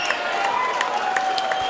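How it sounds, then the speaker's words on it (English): Crowd applause and cheering at a boxing event for a New Zealand fighter in blue who faced a hostile crowd, a steady wash of clapping with scattered shouts, moderately loud and continuous. "Let's give our man in blue a big round of applause."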